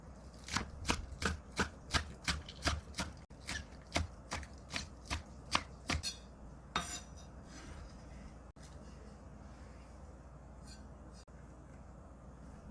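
A knife chops green onions on a cutting board while braised tofu is being prepared: about a dozen crisp, evenly spaced taps in a quick rhythm, then the chopping stops and quiet room tone follows.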